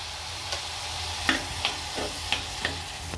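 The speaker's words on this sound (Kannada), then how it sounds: "ಈಗ ಟೊಮೆಟೊ ಹಾಕಿ ಮತ್ತೆ ಫ್ರೈ ಮಾಡ್ತೇನೆ." Vegetables with tomato and salt fry in a pan for pulao, giving a steady soft sizzle broken by several light spoon taps and stirring scrapes.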